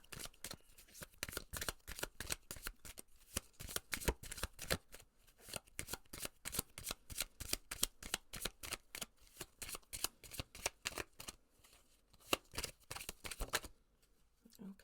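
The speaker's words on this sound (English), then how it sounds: "let's go ahead and pull an oracle card" A deck of oracle cards is shuffled by hand, making a fast, close run of crisp riffling flicks that continues for several seconds and then stops.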